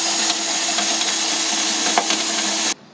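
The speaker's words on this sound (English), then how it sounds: "in order to remove the rivet, all you have to do is have a drill bit and you just press down and drill away" A drill bit bores out the rivet on a lawn mower recoil pull cord assembly, a steady grinding whir running continuously at close range before cutting off abruptly near the end.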